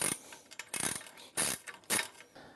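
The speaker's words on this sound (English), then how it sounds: "Secure your last bolt and then you're done." A coach bolt is tightened as the last fixing of an Xpanda Aluglide gate installation, giving a few faint ratcheting clicks and metallic turns in short bursts, close by and quiet with no talking.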